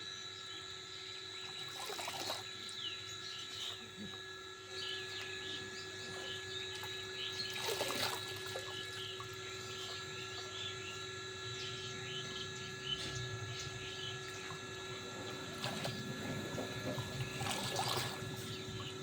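Freshly picked leafy greens are rinsed in water, with faint, soft splashes and trickles at intervals in a quiet setting and no talking.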